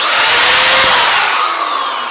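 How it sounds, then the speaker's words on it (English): An electric drill running loudly and close, a steady high whine that holds for a couple of seconds and then begins to wind down as the motor slows. "let's run the drill here"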